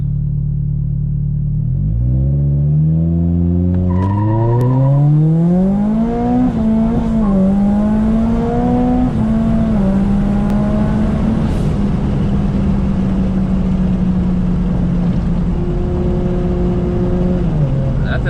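A 400-wheel-horsepower Subaru FRS accelerating hard in a 0-60 mph run: a loud, close engine drone climbing steadily in pitch, with brief dips at the gear shifts before it pulls again and settles into a sustained high roar.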